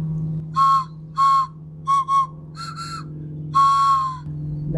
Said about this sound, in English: these double whistles.